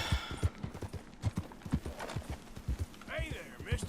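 Horse hooves clip-clop in a quick, steady rhythm in the Red Dead Redemption II video game, close and fairly quiet, with a brief whinny-like call near the end.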